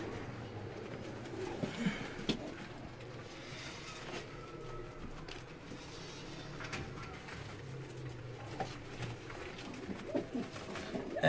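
Mixed pigeons and doves, including teddy and golden doves, cooing softly in a home loft; low murmuring coos run throughout at a steady, moderate level with occasional louder calls and faint background noise.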